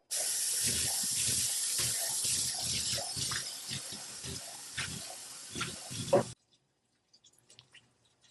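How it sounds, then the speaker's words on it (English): Running water rinses off a rechargeable electric spin scrubber under a tap, a loud, steady spraying and splashing rush that stops abruptly, followed by a few faint drips and knocks. "Now rinse this off."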